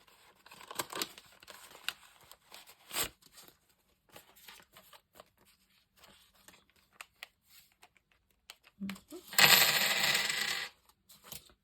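Euro cash is counted out by hand into a budget envelope at home, with scattered light clicks and coin clinks, then a louder close burst of paper and envelope rustling near the end.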